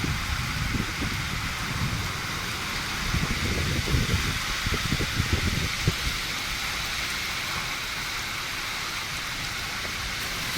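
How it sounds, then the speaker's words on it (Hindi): Strong wind gusting through leaves during a sudden heavy rainstorm near a papaya tree, with a steady roar of rain and wind throughout and louder swells in the middle, close and continuous. "बहुत ही ज़्यादा जोर का हवा चल रहा है भाई।"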